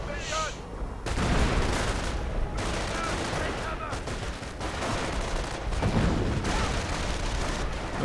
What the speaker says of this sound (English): Looks like more artillery going in.